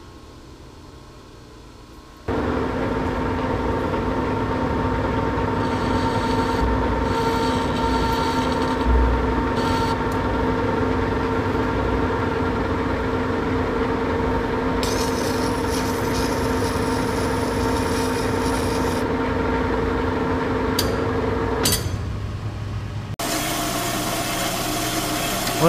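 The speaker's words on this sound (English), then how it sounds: "Letting the bandsaw do its thing" A bandsaw cuts metal stock for a ball screw nut adapter, giving a steady, loud machine hum with a constant whine that holds for about twenty seconds before the tone shifts near the end.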